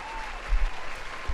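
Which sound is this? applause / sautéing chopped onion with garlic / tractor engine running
applause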